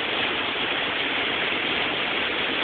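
Horsetail Falls pours down in a steady, dense rush of falling water, loud and close, with an even hiss and no break or variation throughout.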